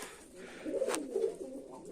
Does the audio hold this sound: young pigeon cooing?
yes